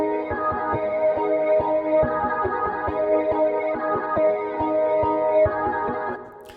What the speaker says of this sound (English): I basically chopped up the sample right here and put a lot of processing on it.